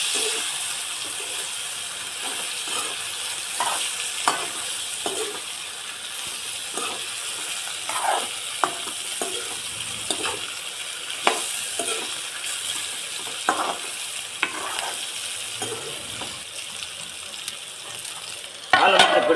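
Tindora and potato curry is stirred in a pan, giving scraping spoon strokes and soft sizzling at a steady, moderately loud level, with a brief louder clatter near the end.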